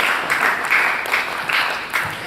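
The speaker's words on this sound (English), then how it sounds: "That's why 6 people are clapping." Scattered clapping from a small group, fairly steady and moderately close, without any voices.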